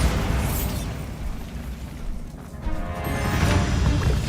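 A Bombarda spell blast in the Hogwarts Legacy video game: a loud, sustained rumbling explosion with crackling debris, swelling again toward the end.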